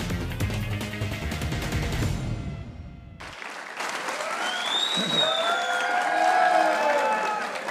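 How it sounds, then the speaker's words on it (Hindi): Studio audience applause on a Hindi cricket talk show panel, dense clapping that fills the room, briefly thinning before a sharp cut and then resuming with cheering, loud and close throughout. "एक बार सरफराज अहमद के लिए तालियां करेंगे।"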